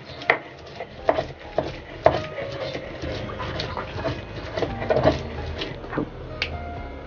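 Eggplant and fish bharta is coarsely ground by hand, giving a series of irregular, fairly close knocks and scrapes spaced a second or so apart over a soft background.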